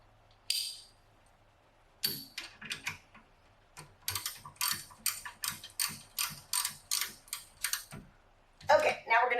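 A hand ratchet clicks rapidly as it tightens the rear brake caliper bracket bolts on a 1998 Acura Integra GS-R, with short bursts and then a long run of sharp, evenly spaced clicks up close.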